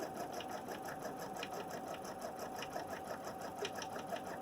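An embroidery machine stitches a positioning line onto stabilizer for a digitized block, a fairly quiet, steady whirring hum marked by quick regular needle ticks throughout.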